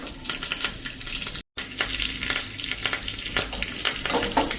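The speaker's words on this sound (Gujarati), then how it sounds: "તો આ રીતે 1 ટીસ્પૂન જેવી રાઈ અને થોડા એવા લીમડાના પત્તા નાખીને અને આપણે એને ક્રકલ થવા દેશું." Mustard seeds and curry leaves crackle in hot oil for tempering buttermilk, a steady dense sizzle with sharp pops throughout, close and fairly loud, briefly cut by a moment of silence, with no talk.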